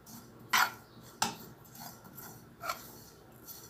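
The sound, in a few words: stirring sesame dressing in a pan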